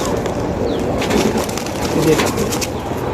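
Young pigeons kept at home coo softly and repeatedly at close range over a continuous low murmur of background noise.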